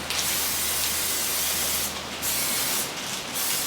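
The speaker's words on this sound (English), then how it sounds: "Why are you spraying it? So the brownies don't stick." Two short hissing bursts of cooking spray onto a baking pan, close by, over a steady low hum of background noise.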